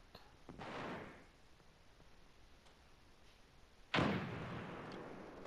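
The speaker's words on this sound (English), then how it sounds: "Yeah, somebody got shot downstairs." Gunfire in the video game America's Army: Proving Grounds, with two distinct broadband bursts: one muffled shot early on and a sharper, louder crack near the end, separated by quiet ambient game noise.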